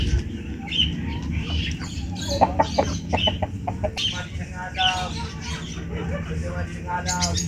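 Chickens cluck and squawk close by in short irregular bursts, with a low steady hum underneath.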